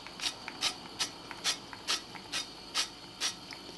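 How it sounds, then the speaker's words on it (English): A gas stove's igniter clicks rapidly in a steady series of about nine sharp ticks, close and fairly quiet, with no speech over it. "I'm just going to turn on the gas."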